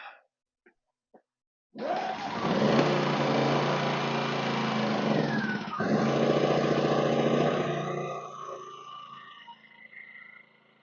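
A DINKING 2300i-M inverter generator's small engine catches on the first pull after a few faint clicks, then runs loud and steady nearby before its note softens and settles toward idle.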